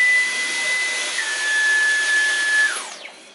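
A Dyson V11 Animal cordless stick vacuum runs on soft carpet with its suction gate opened, giving a loud, steady whine and airy roar that holds throughout and then winds down near the end.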